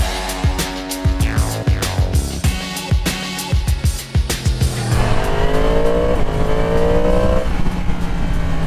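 A loud 2022 Yamaha MT-10 CP4 engine revs repeatedly in sharp bursts, then climbs into a sustained high-pitched wail, close and powerful with no voices.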